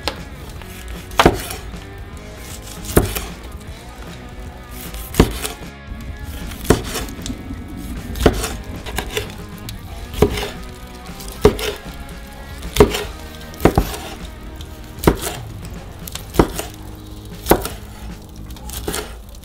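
A knife chops through home-smoked sausages on a cutting board in steady, evenly spaced knocks, close and crisp, about one stroke per second with no talk.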